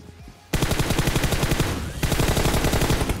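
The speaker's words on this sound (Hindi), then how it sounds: "मैं यहाँ पे फायरिंग कर रहा था उस पर।" Rapid automatic gunfire from the mobile battle-royale game PUBG Mobile bursts in after a brief quiet start, then continues as loud, dense, evenly spaced shots, with a short break near the two-second mark before the firing resumes.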